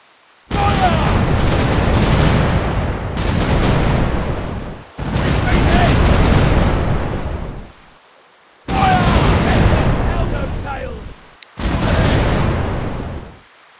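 Pirate ship cannons in The Pirate Caribbean Hunt game fire in several long, loud booming bursts, each rumbling for a couple of seconds and separated by brief near-silent gaps.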